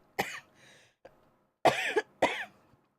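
One person coughs in a quiet room: three or four sharp, close bursts spread over a few seconds, one of them doubled, with a little throat-clearing between them, after weeks of a lingering cough.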